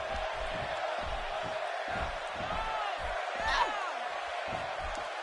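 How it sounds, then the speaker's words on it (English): An arena crowd in the WWE 2K17 wrestling game roars and cheers in a steady wash, with a swell partway through, under a commentator's voice talking throughout. "Would you listen to this crowd?"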